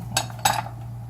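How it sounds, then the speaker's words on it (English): A wooden spoon knocking against a cooking pot while stirring paprika and Sazon seasonings into oil for rice and beans: two short, close clunks about a quarter second apart over a low steady hum. "We have our wooden spoon. I'm gonna mix this in because our oil is already in there."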